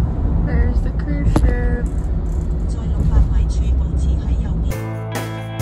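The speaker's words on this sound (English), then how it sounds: "So I'm in the car driving back now." A car drives along a road in Hong Kong near Victoria Peak, a steady interior engine and road rumble with brief clunks, ending in an abrupt shift to a different tonal hum.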